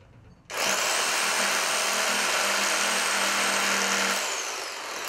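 A saw starts a cut in scrap pallet wood for a wine rack, a loud steady whining roar that kicks in abruptly and holds for several seconds, close and alone with no voices.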